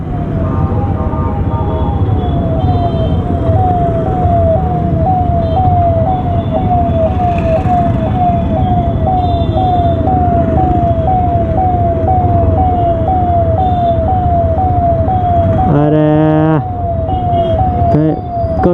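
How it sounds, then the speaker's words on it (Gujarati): A loud, close ambulance siren wails on a road in steady, repeating rising sweeps over engine rumble, with a brief horn blast near the end. "પાછળ છે એમ્બ્યુલન્સ મસ્ત મજાની."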